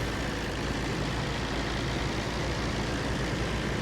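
A loud, steady tractor engine roar in the video game Farming Simulator drones continuously without pause, heavy and broadband, with no voices over it.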